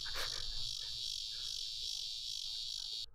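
A cicada in a video game gives off a continuous high, shrill buzzing drone that holds steady and then cuts off abruptly near the end, with a faint low hum underneath.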